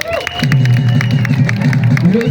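A crowd at a public ceremony cheers and applauds an introduced officer, with a continuous roar of voices and clapping, loud and close, and a voice calling out over the din.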